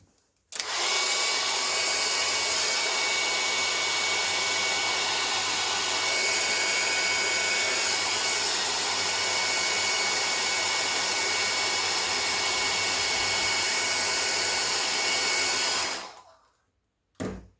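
A hair dryer blows steadily to dry a watercolor painting, a loud, unbroken close-up whir that runs for about fifteen seconds before cutting off.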